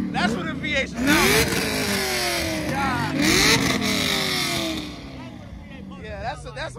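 Dodge Hellcat engine revving hard at a street car meet, with repeated rising and falling rev sweeps over a loud, crowded background and people talking and shouting nearby throughout.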